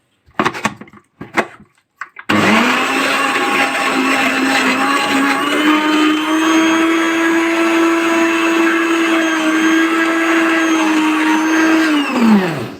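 A blender grinds sesame seeds for homemade tahini, starting abruptly after a few clicks and running loud and steady with a whining motor tone for about ten seconds before spinning down.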